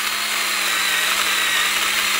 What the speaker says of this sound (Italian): Sblocchiamo la motosega